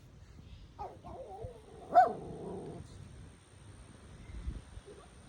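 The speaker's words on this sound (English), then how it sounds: "The dogs aren't liking the cat coming around." Dogs in a rural yard give a few scattered barks, yips and whimpers at a cat nearby, fairly close but moderate in volume, with quiet outdoor ambience between the bursts.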